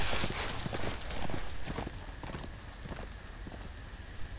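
Horse hooves clip-clopping at a steady walking pace along a road by a wood, close and fairly loud, with muffled ambient noise underneath.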